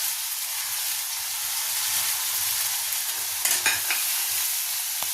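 Dry spices stirred into frying tomato paste for paneer masala, a constant close hiss of sizzling with spoon scrapes and clinks near the end.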